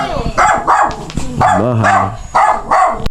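At a house, a dog barks loudly and close in several sharp bursts, with a whining yelp in the middle, as people talk over it.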